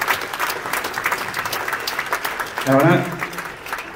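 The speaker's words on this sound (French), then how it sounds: "vous allez devoir applaudir encore plus fort" Festival closing-ceremony audience applauding steadily in a hall, a dense continuous patter of many hands under a presenter's amplified French speech, with a brief musical sting partway through.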